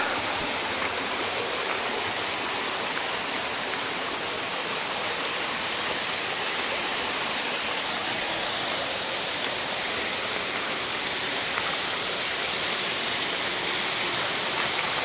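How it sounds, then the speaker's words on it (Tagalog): Payaran Falls in Barangay Mascap, Montalban, Rizal, roars as a loud, steady rush of falling water that fills the whole stretch without a break, close and unvarying, with no voices. "Mukha naman siyang may tubig kasi lakas ng buhos ng tubig dito"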